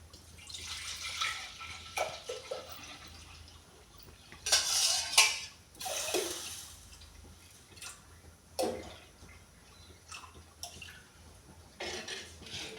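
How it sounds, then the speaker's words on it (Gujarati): A clay pot set onto a gas stove to warm milk for kheer, with several separate clattering knocks of earthenware and utensils in quick bursts, moderately close, over a quiet background. "તો મેં આ ગેસ ઉપર આપણે હાંડલી મૂકીશું, એની અંદર આપણે દૂધ થોડું ગરમ કરીશું।"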